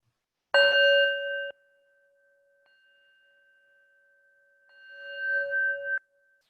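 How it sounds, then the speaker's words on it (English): A meditation bell rings with a bright sustained tone, struck once and left to decay, then swelling again for a second ring that fades out in a quiet room. "I'll ring the bell to end this meditation"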